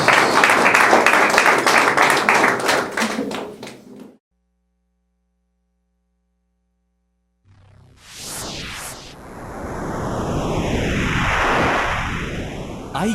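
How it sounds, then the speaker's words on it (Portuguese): A church congregation applauds loudly in a dense, steady burst of clapping that cuts off abruptly, followed by silence and then a swelling electronic broadcast jingle. "Se coloque de pé e aplauda o Senhor bem forte"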